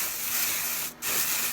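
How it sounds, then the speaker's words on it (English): A short burst of Kevin Murphy Fresh Hair dry shampoo sprayed into a cap hisses steadily, briefly pauses, then hisses again, close and fairly loud with no one talking. "You spray it in the cap."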